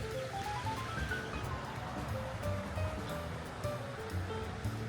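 Fast-flowing water gushes down a big rock from the top of a mountain in Glen Bianesdale, a steady close broadband rush with no break, heard alone.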